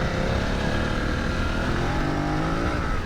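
A BMW F 900 GS motorcycle roars loudly and continuously as it accelerates, its engine drone dense and close with wind noise throughout.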